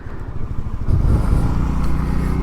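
An FKM Juke 150 motorcycle engine revs up in a strong, steady low rumble that swells after the first second and stays loud and close, with no talk over it.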